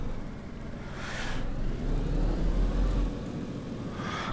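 A car in the video game DayZ drives at night, giving a faint low engine rumble that swells slightly midway, with brief hissy bursts at the start and end and no talking.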